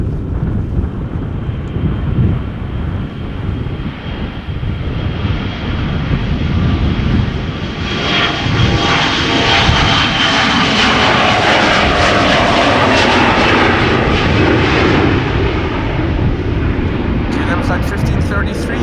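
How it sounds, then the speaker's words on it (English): A six-year-old Embraer 175 departs Schiphol Airport, its loud, close jet engine roar building and holding steady with broadband rumble and wind buffeting on the microphone. "Flight 1533, Embraer 175, outbound Teesside or Darlington."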